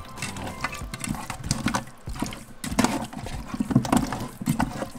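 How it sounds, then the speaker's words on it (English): Cold tap water splashing over raw chicken being rinsed in a kitchen while making caldo de pollo, heard as irregular close-up gushes and spatters that surge and ease. "So now we're just going to rinse it with cold water."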